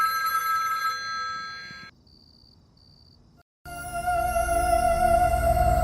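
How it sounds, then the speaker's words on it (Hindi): A phone ringtone plays loudly, drops to near silence with faint repeating beeps, then a louder burst of tone and noise returns. "जब भी ये भड़के इसे ये रिंगटोन सुना देना।"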